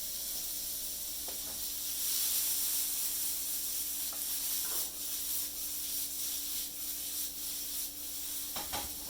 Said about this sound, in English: Add them to your hot oil and pan fry on one side until golden brown